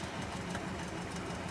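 A wood lathe spins a cherry burl bowl blank slowly at about 375 RPM, giving a steady low motor hum with faint rhythmic vibration that runs evenly throughout.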